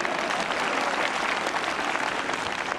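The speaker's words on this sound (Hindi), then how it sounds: "ताली बजवाया ताली बजती" A crowd claps at a National Voters Day gathering in a tahsil, with loud, dense, continuous applause that runs throughout without pause.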